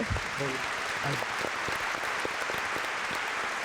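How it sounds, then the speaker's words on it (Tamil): Applause from a studio audience on a Tamil TV discussion show, steady clapping throughout with a brief voice heard over it at the start. "கைத்தட்டு."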